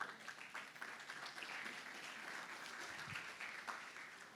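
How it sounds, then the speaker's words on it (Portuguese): Congregation applause at a church service, steady and moderately faint, sustained clapping from a crowd at some distance. "Aplauda o Senhor por isso."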